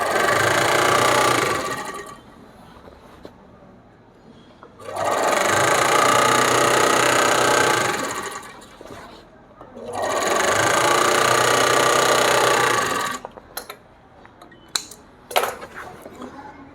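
An overlock machine stitches denim jeans cloth in three loud, steady bursts of rapid mechanical whirring, each lasting a few seconds and separated by pauses, then trails off in scattered clicks and handling knocks.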